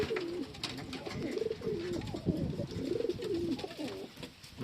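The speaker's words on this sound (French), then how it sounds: "et les pigeons voyageurs ici, tranquille." Homing pigeons in a loft cooing in repeated soft, throaty phrases, close and fairly quiet, over a faint background hiss, with no talking.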